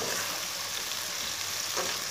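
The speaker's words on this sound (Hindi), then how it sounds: "लहसुन और प्याज को 3 मिनट तक पका लेंगे।" Chopped green garlic and onion fry in a hot pan on medium heat, giving a steady, dense sizzle that carries evenly throughout with no pauses.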